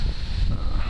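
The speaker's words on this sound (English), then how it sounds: "cold and windy on the beach today" Cold wind blowing across Old Orchard Beach in Maine near the pier, a loud low buffeting rumble against the microphone in short gusts, with no talking.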